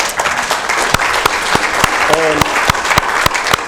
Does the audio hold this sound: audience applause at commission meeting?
yes